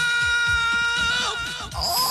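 A long, high-pitched cartoon scream holds steady with strong bright overtones, wavering and breaking near the end, loud and close with a bleating, goat-like quality.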